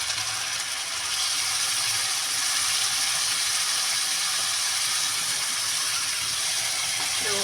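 Onions and green chillies fry in hot oil with garlic in a pan, giving a dense, steady sizzle and crackle that runs unbroken and fairly loud from start to finish, with no talking over it.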